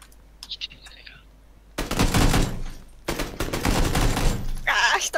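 Rapid burst-fire gunshots from PUBG, loud and dense in two long volleys after a faint opening, with a brief burst of Japanese chatter under the shooting near the end.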